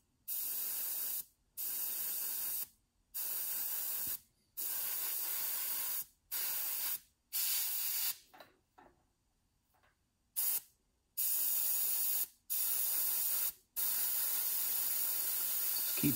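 Spray can coating a Tamiya 1:12 Ducati Superleggera V4 model part gives repeated close hissing bursts of about a second each, separated by short pauses.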